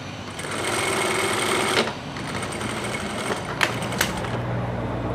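A sewing machine stitches fabric while a pant hem is being repaired, a steady, close mechanical whir of the needle running continuously, with brief clicks and a short pause in the motor's rhythm.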